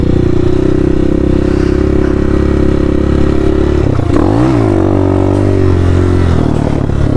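A Hawk 250 dirt bike rides a dirt trail, its loud, close engine droning steadily, then shifting pitch midway as the rider changes gear over scraping and clattering from the ground.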